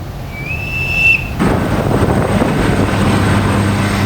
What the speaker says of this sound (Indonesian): Rekaman video menunjukkan awak dek penerbangan mengarahkan jet tempur untuk lepas landas